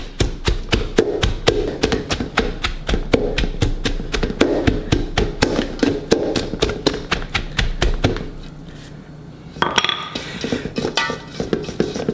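Cabbage with turmeric, fennel seeds and cayenne being mashed and pounded for sauerkraut, a loud rapid train of close thumps in a steady rhythm, a brief pause, then more pounding.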